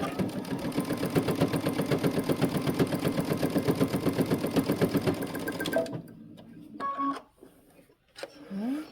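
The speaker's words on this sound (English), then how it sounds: "I'm gonna lower my needle first. And don't forget to back stitch." A sewing machine stitches a backstitch, running as a close, steady rapid clatter for about six seconds before stopping, followed by a few faint clicks and handling sounds.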